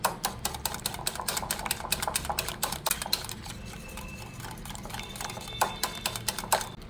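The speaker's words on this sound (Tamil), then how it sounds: "நல்லா அடிச்சுக்குங்க முட்டையும் சர்க்கரையும்" Eggs and sugar beaten together in a bowl for a banana cake, with a fast run of close, rapid clicking and tapping strokes that slows slightly near the end, and no talking.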